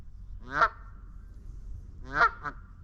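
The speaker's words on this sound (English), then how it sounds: "Now right here we have a very angry Canada goose." An angry Canada goose gives two harsh nasal honks about a second and a half apart, near and moderately loud, over a quiet outdoor background.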